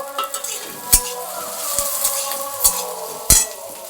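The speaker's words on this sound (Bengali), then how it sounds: "পেঁয়াজগুলো দিয়ে দেবো একসঙ্গে ভাজা হয়ে যাবে" Onions frying in a pan for egg pasta give a steady sizzle, broken by a few sharp clinks of a utensil against the pan and soft stirring scrapes.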